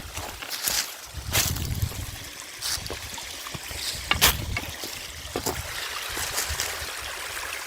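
Small waterfall on forested hillside land in Gapyeong, Gyeonggi: a steady, soft rush and trickle of flowing water, moderately distant, with occasional louder splashes and bumps over the continuous stream.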